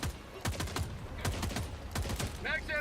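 Rapid gunfire from a magazine being emptied in the online shooter Noobs in Combat, a burst of about eight sharp close shots in an even rhythm, ending with a brief higher mechanical chirp.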